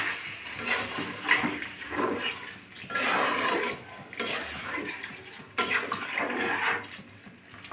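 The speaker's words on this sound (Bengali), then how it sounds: "এবার জলটা দিয়ে দিচ্ছি" Water poured into a pan of fish curry base with salt and turmeric, a continuous splashing gush lasting several seconds, moderately loud and close.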